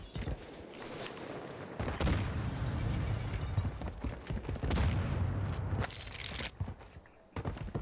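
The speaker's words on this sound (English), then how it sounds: "I don't know what those explosions near us are" Explosions and gunfire in the video game Warzone 2, with a dense run of loud blasts and rapid shots that continues for most of the stretch before a short lull and a final burst.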